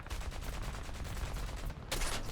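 Aircraft machine guns fire in a video game, a continuous rapid rattling burst at close range that pauses briefly and then resumes loudly, with no talking.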